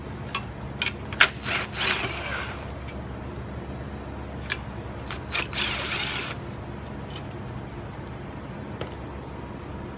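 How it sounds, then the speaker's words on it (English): An impact gun works on car engine parts for a dual turbo setup, giving short ratcheting bursts and brief whirring rattles separated by pauses, heard fairly close over a low background hum. "Let me get a impact gun."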